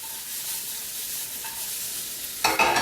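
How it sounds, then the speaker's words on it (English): Bacon and onion fry in a pan on high heat, giving a steady close sizzle, with a few scraping stirs near the end. "we are going to let that bacon cook and that onion get brown for around 3 to 5 minutes on high heat"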